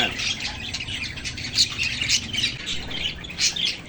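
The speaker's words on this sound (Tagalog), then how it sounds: "Aking mga alagang parakeets." Pet parakeets in a cage squawk loudly and harshly, their rapid calls overlapping in a continuous chattering burst close by, with no one speaking.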